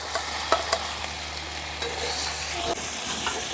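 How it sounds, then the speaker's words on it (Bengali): Fried potatoes being added to oily, well-cooked masala in a pan for a Pabda fish curry with green chillies, with a steady close sizzle broken by a few sharp spoon scrapes and clanks as they are stirred in. "এখন ভেজে রাখা আলুগুলো মশলার মধ্যে দিয়ে দিচ্ছি।"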